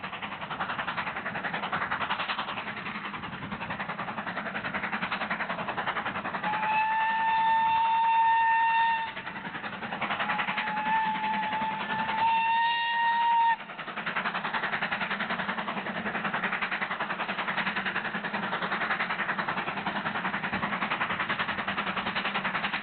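British Railways Standard steam locomotive 76017 hauling a train for Alton near Bishop's Sutton on the Mid-Hants Railway in Hampshire: a steady working rumble, with two long tonal whistle blasts rising over the noise midway.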